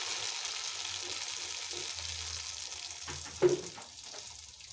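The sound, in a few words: semolina and flour pitha batter frying in hot oil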